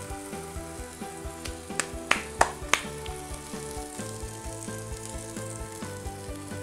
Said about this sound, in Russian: Пусть жарится.